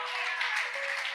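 A congregation at a family church service applauds the Lord, a dense, steady patter of many hands at a constant level, with a faint sustained tone running beneath.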